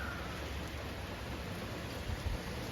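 Continuous rainfall outside a Dollar General on a soggy day, an even diffuse hiss with a few slightly louder patter bursts near the end, no voices.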